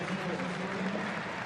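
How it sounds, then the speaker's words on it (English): Football supporters at a Newcastle Jets A-League match against Perth Glory applaud in the stadium, a dense, steady wash of clapping from a large crowd while a commentator talks over it. "the supporters here applaud Newcastle Jets"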